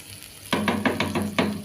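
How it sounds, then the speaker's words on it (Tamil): Sardine mango curry (mathi meen kuzhambu) seasoned with homemade chilli powder boils in a pot, giving a close run of rapid bubbling pops that recur in quick bursts after a brief quiet start. "பாருங்கள், குழம்பு நல்லா கொதிக்குதா."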